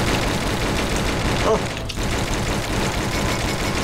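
Dense, continuous machine-gun fire from a video game rattles loud and unbroken, with a brief dip in the middle of the burst.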